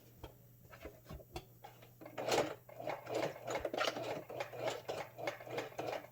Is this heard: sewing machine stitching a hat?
yes